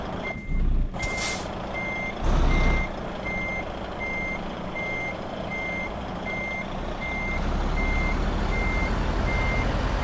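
Truck reversing beeps in the Euro Truck Simulator 2 game, a steady evenly spaced series of about a dozen electronic tones over a low engine rumble, with two brief louder bursts near the start and the engine swelling toward the end.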